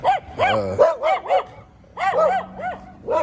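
Several high-pitched puppy barks and yips come in quick, uneven bursts, close and fairly loud, with short pauses between them.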